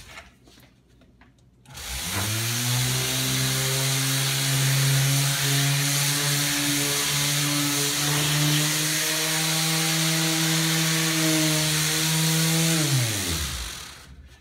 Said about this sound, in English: And I've got a 40 grit disc for that sander.